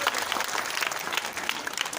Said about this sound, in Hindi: एक बार तेज आवाज में जाओ ताली लगा।